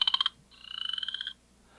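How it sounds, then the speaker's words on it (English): A chorus frog calling in spring, two clear bursts of rapid, rising trilled clicks, the second longer, close and alone against a quiet background. "So another very common one this time of year is called the chorus frog."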